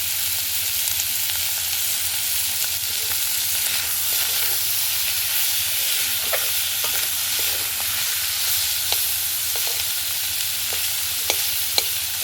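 Fish fat sizzles steadily in hot oil in a pan, a continuous dense crackle with occasional small pops, close and even, with no talking.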